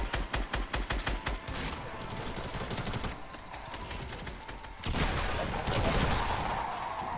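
Rapid gunfire rattles in Fortnite, a quick run of loud shots at the start giving way to sustained automatic fire and further bursts, close and dense.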